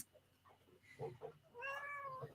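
A cat meows for treats indoors, giving a few short chirps followed by one longer, drawn-out meow, close and moderately loud, with no talk.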